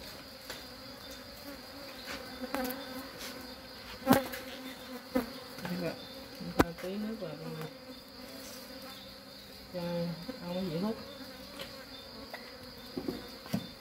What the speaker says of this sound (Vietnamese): Vậy nhưng mà chúng ta là sẽ cho ong nó ăn tiếp theo